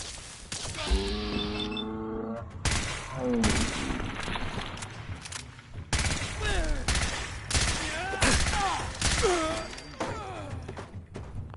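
Dense gunfire in a chaotic firefight, rapid bursts and cracks over rumbling impacts, with shouted voices mixed throughout.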